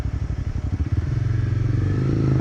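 A Kawasaki Z125 Pro mini motorbike being ridden revs loud and close, its engine note pulsing in quick beats and then climbing into a steadier, rising drone as it accelerates.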